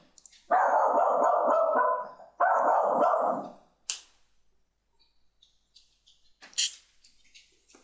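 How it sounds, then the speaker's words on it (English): A dog lets out two long, loud runs of rapid barking up close, each about a second and a half, followed by quieter scattered sounds. "That's my dog."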